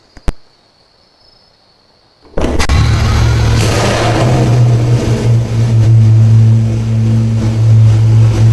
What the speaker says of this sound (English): the start up in a tunnel was loud